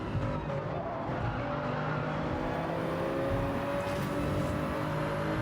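A race car engine in a video game drones steadily at high revs in fourth gear, loud and close, with a faint tire squeal layered over the constant roar.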